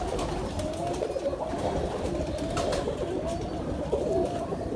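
Domestic pigeons cooing near and close, with soft, repeated throaty coos overlapping against a busy background hum and no talk.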